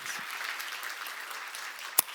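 Church seminar audience claps in a short, moderate burst of scattered applause, ending with one sharp louder clap.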